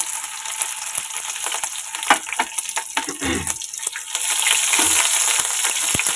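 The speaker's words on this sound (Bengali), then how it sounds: "এবার এই তেলের মধ্যেই আমি দিয়ে দিচ্ছি কালো জিরে ফোড়ন আর দিয়ে দিচ্ছি কেটে রাখা কাঁচা লঙ্কা ফোড়ন" Black cumin (kalo jeera) and chopped green chillies hit hot oil left from frying brinjal, a close hiss and spitting crackle that swells louder toward the end, with a few utensil knocks and no talking.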